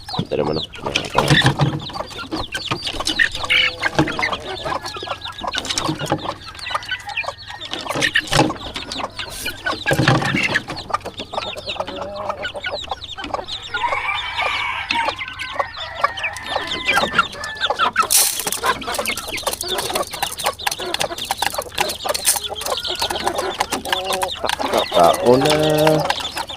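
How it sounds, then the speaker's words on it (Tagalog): Chickens cluck steadily at morning feeding time, a busy overlapping chorus of hens close by with an occasional distant rooster crow, while a person talks over the flock now and then. "papakain muna tayo ng manok"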